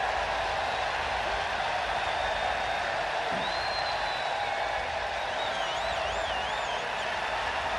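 A big baseball ballpark crowd in Seattle roars in a continuous, distant-sounding wash of cheering and noise, with a few whistles rising above the steady din.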